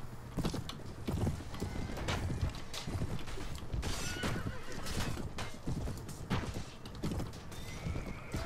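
A horse in the medieval video game AD1257 neighs amid clopping hooves and clanking game sounds, with repeated whinnies over a busy, moderately loud mix.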